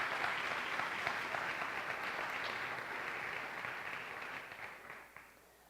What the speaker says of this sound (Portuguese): Essa família quer nesse momento dar a você uma salva de palmas.